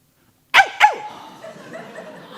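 A human voice imitates a guard dog during a stage play, giving two sharp, loud barks in quick succession followed by a faint trailing echo and room noise.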